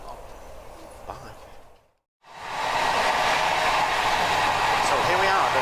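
A Norwegian train on the Oslo to Flåm line roars loudly inside its front carriage, a dense continuous racket that briefly cuts out and then returns even stronger.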